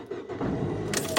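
A car engine starts up and settles into a steady, loud idle, its rough exhaust sounding due for replacement, close inside the cabin with a brief jingle of keys.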